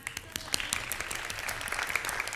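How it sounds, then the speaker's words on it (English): Audience clapping at a business keynote talk, a steady patter of many hands filling the room at moderate volume, with faint voices underneath. "Can we give them a clap"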